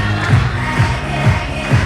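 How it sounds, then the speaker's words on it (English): Spectators at an indoor bouldering World Cup semi-final in Innsbruck cheer on a climber, a dense, steady roar of crowd noise with rhythmic swells roughly every half second, like clapping or chanting. "Crowd really getting behind her here as well."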